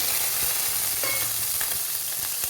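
Onion frying in hot oil gives a steady, close crackling sizzle with a couple of faint stirring touches, brief and without speech.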